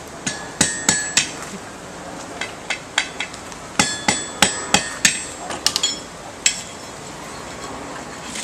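A hammer forge-welds two pieces of steel on an anvil with flux powder, giving about twenty sharp, ringing metallic strikes in uneven bursts, close and loud, with no talk between them.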